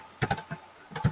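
A computer keyboard clicks under quick typing as a SOQL query is entered in Salesforce. There are two short close bursts of sharp keystrokes with a brief pause between them.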